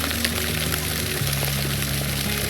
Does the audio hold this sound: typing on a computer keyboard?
no